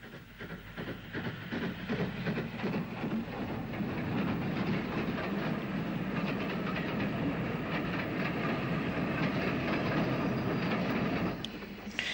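A passing steam-era passenger train in Ulster rumbles steadily with rhythmic clickety-clack of wheels on rails and some hiss, sustained and fairly distant throughout.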